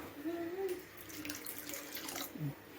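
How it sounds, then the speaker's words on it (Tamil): Water is poured into a pot of cooking lentils and greens, a soft, close trickle and splash at low volume with faint kitchen clatter near the end. "இன்னும் கொஞ்சம் கூட தண்ணி ஊற்றிக்கோங்க"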